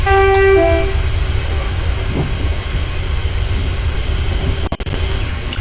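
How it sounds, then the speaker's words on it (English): A Class 380 train horn sounds loudly at the start on the Glasgow airport rail link, a short two-tone blast over the heavy rumble of the train climbing a hill, followed by continuous track noise and a few clicks. "Passing horn."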